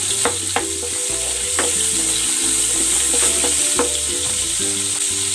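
Butter sizzling in a hot pan, a steady loud hiss with a few sharp pops and clicks, heard up close with a low hum underneath.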